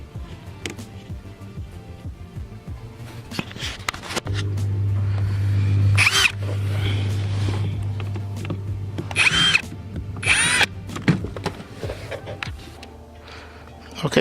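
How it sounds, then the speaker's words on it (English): A power drill whirs in bursts at close range while drilling a hole for a car footwell LED install, with scraping and handling clatter around it. "Just use a drill bit to make a hole that goes around."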